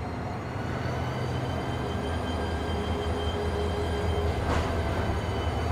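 A Malaysian Ekspres Selatan train rumbles steadily nearby with a constant low roar, and a brief metallic squeal rises near the end.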